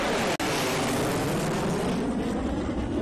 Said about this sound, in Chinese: 刚刚战斗机在我的正上方飞过的时候